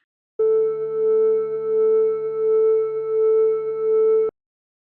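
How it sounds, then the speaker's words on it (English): A steady, sustained audio feedback tone with rich harmonics in a band recording mix, holding one pitch for about four seconds with a slight wavering pulse, then cutting off abruptly. "Towards the end, we have this feedback."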